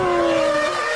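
A 2006 Formula 1 car braking hard in the pit lane, a loud tonal tyre squeal and engine whine that slides slightly downward over a brief moment.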